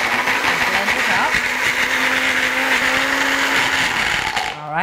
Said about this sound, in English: in this handy little blender here, I'm going to shake it up a little bit and blend it up